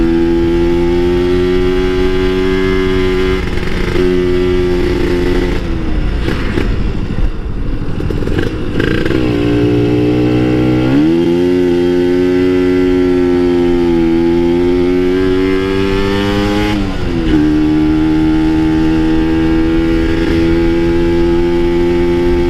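Two-stroke Kawasaki Ninja motorcycle engine braking on a hill with the half clutch, a loud, close, buzzing engine note that drops, surges and wavers in pitch repeatedly over a long stretch.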